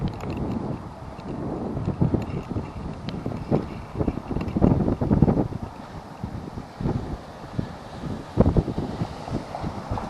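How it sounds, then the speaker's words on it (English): Strong, gusty wind roars across a microphone while cycling during a high wind advisory, strong enough to push the bike along. The rumbling buffeting is continuous and swells in louder gusts, with no voices. "That wind is pushing me right along."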